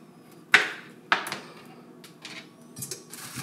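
A beefsteak tomato portion drops into a metal roasting pan with two sharp clattering knocks close by, followed by lighter scraping and shuffling sounds.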